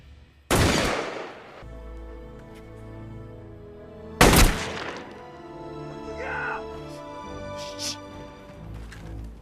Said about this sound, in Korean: 스스로 방아쇠를 당깁니다